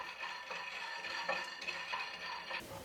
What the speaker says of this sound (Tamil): வெறும் கடாயில் வேர்க்கடலையை வறுத்து எடுத்துக்கிறேன்.